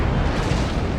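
A short burst of broadside cannon fire from warships in Empire Total War, a thick, loud, sustained boom with no gaps and no talking.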